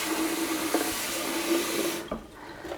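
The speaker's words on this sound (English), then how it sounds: "what you can do is you can just give this a quick rinse" Running water rushes steadily as the dirty water tank of a Tineco Carpet One carpet washer is rinsed, a loud close splashing stream that cuts off near the end, leaving quieter trickling and faint drips, with no voices.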